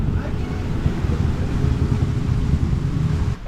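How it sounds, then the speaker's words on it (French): A squall gusts over a sailboat as the wind rises sharply, producing a loud, continuous roar and buffeting across the microphone together with a dense wash of water noise. "Le vent vient de monter de 14-15 nœuds"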